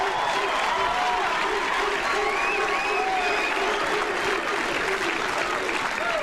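Spectators at a 1997 professional bowling telecast cheer and applaud in a frenzy, producing a dense, continuous wash of clapping and whoops that stays loud and even throughout.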